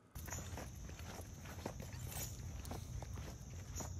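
Footsteps of a boy carrying a backpack as he walks out to a car, a steady series of close, soft steps over a constant background hum.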